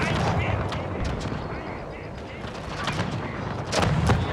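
Musket volleys and cannon fire in the Pike & Shot Total War game rattle on continuously as a dense, crackling battle din, with heavier booms near the end and a voice talking over it.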